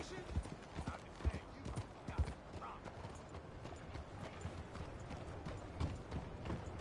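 Horse hooves clip-clopping in the Red Dead Redemption 2 video game, an irregular run of soft hoof strikes with faint in-game ambience beneath.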